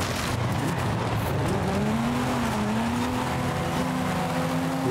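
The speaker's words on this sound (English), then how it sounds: "Whoa, don't drift." Car in Forza Horizon 5 drifting with a long rising and wavering tire squeal over a loud, steady engine roar, close and continuous.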